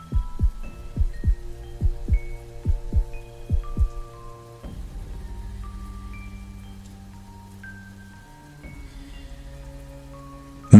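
Rain pounds on corrugated metal roof sheets over a patio, with a run of sharp, fairly loud hits early on that settle into a steadier patter with ringing tones, and no voices.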